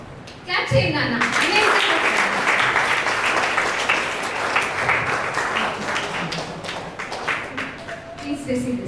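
A congregation at a Father's Day church service applauds a new father: dense, steady clapping that breaks out suddenly and fills the room, with voices mixed in, before it thins toward the end.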